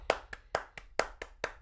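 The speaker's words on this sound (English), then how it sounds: "Claps for Cody." Sharp hand claps at a baseball watch party, seven crisp claps in a slightly uneven rhythm, close and loud with no talking.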